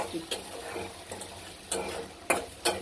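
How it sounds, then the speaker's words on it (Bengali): Onions fry in a pan under a soft, steady sizzle, broken by several sharp scraping strokes of a spatula that come at irregular intervals. "আর এই যে পেঁয়াজটা ভেজে নিতেছি"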